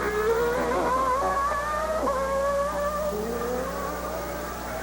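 Jean Alesi's Formula 1 car at 1992 Australian Grand Prix practice howls along the long straight, a shrill engine note climbing through gear changes with brief drops, heard at a distance over broadcast background noise.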